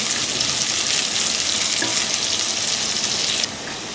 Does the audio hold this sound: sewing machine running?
no